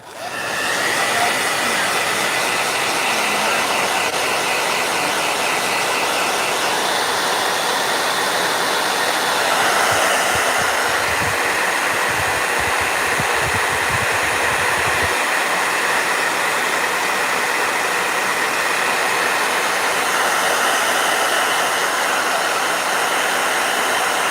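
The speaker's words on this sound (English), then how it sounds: "Blow dryer." Blow dryer roaring steadily and loudly at close range, a continuous broadband rush of air with a low motor hum, used to dry a piece.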